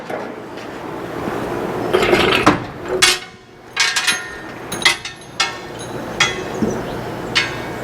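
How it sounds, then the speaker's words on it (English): A metal oil pan on a scrapped 350 engine from a 1979 GMC Heavy-Half is struck several times, giving sharp, loud clanging hits at irregular spacing, each ringing briefly over a low background hum. "I'll hit the oil pan."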